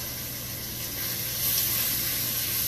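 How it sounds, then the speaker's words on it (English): Small food pieces fry in a hot pan on a stovetop, giving a steady, close sizzling hiss that swells slightly partway through, with no voices. "But you can hear all those pieces sizzling."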